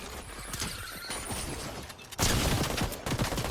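Bursts of video game gunfire crackle in rapid volleys, with a louder, denser stretch of shots in the second half, heard alone without talk.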